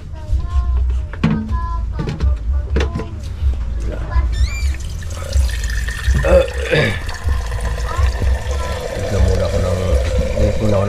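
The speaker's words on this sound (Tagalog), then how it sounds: "Lagyan mo nga ng tubig yung container na yan." Running water fills a container for coffee in a home setting, a steady splashing and trickling under continuous nearby talk.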